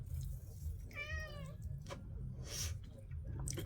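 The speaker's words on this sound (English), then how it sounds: "I'm going to get ready to pay my kitty attention here because he's yelling at me" A cat meows loudly in a drawn-out, wavering call near the middle, with a steady low hum and a few faint clicks and rustles around it.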